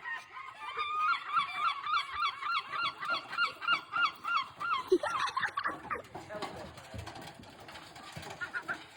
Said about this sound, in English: Oh look, there's a seagull already there.